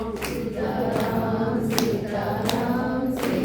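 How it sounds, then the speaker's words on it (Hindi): Audience clapping hands during a Ram Katha recitation on Guru Purnima, a steady dense wash of applause from a crowd with a few louder individual claps standing out, continuous and fairly close. "भगवान के यहाँ पर हनुमान जी डायरी लिए बैठे हैं, कितनी तालियां बज रही हैं।"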